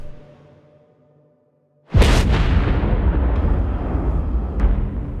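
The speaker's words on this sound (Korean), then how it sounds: "폭발은? 이 굉음과 함께 엄청난 열기가 장호를 덮쳐." Sudden explosion in a building at night where children slept: a sharp, loud boom bursts out of near silence and rolls straight into a sustained, heavy roar that carries on without any talking.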